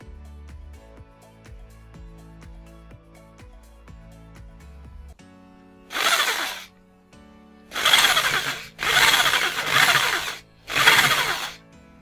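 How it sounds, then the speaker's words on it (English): Electric drill boring a hole for a switch in a DIY CPU fan cooler build, several short loud whirring bursts after quieter background music, close by, no talking. "So I'm gonna drill it."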